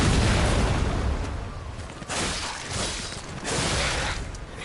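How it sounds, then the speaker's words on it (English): Heavy cannon blasts boom out in the Frigid Coast area of the video game Lies of P, a dense, loud wall of explosive rumble with several surges of impact and debris over a few seconds, no speech. "Trying to dodge the cannon."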